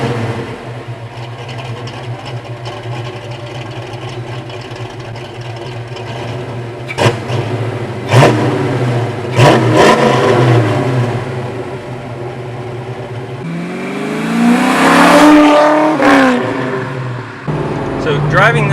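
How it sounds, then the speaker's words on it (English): A 1989 Ford Mustang LX Fox body engine drones and rises in pitch through several loud revs and gear changes on a test drive, with someone talking over the running motor. "So driving this car is a lot of fun."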